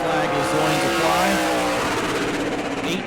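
A super late model race car at New Smyrna runs a qualifying lap, its engine a loud, sustained roar with rising pitch and a brief tire-scrub hiss, heard under a track announcer's commentary.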